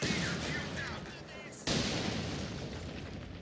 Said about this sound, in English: the mortar half-tracks are falling all over me